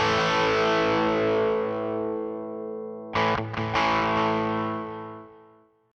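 An electric guitar played through a boost/distortion pedal sounds a loud, sustained distorted chord that slowly fades. Midway a short burst of choppy strums cuts in, then rings out and fades to silence.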